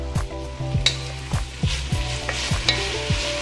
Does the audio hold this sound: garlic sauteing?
yes